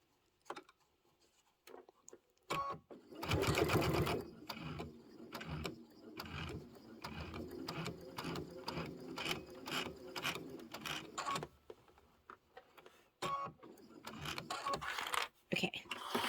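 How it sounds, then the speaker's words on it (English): Sewing machine stitching a bench buddy pillow, rapid mechanical clatter in bursts with short pauses and clicks between runs, close and fairly quiet. "I like to sew from the front because then it looks perfect"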